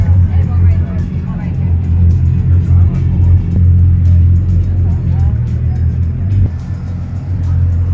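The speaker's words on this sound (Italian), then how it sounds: "Qui dietro una Chiron Sport." A Bugatti Chiron Sport driving past on a street with constant supercar traffic, its deep engine rumble steady and close throughout, with people talking faintly in the background.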